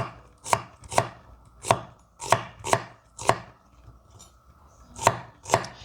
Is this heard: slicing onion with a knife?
yes